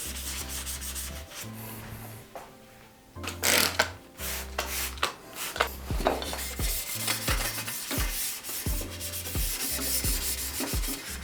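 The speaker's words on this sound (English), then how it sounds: "These kitchen scouring pads seem to work really good." A kitchen scouring pad scrubs the matte-finish frame of a 2006 Gary Fisher Tassajara bicycle, rhythmic close rasping strokes in repeated back-and-forth bursts, alone without speech.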